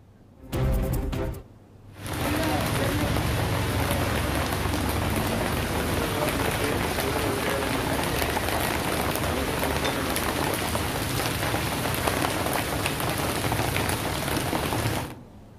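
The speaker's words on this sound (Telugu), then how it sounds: "నగరంలో గంట నుంచి ఏకదాటిగా వర్షం కురుస్తోంది." Heavy, steady rain pours down across Hyderabad, a dense unbroken wash of loud downpour that holds for about thirteen seconds after a brief burst of other noise at the start.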